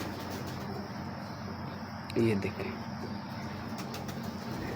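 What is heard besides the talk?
pigeons cooing in a loft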